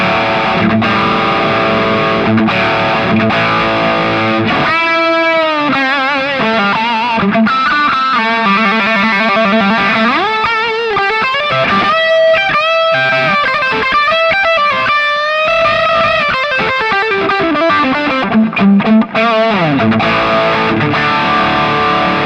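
Gibson Les Paul Faded electric guitar on the bridge pickup through heavy distortion, playing loud sustained riffs and bending lead lines for about twenty seconds, with no talking.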